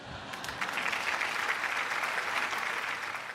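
Hall audience at an education event in Aceh breaks into applause that swells in after a brief pause and holds as a sustained, even roar of many hands clapping, moderately distant.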